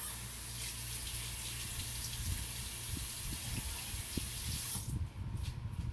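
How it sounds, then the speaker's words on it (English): A kitchen tap runs in a loud, steady gush while hands are washed beneath it, the flow cutting off near the end, with no talking. "I'm gonna wash my hands."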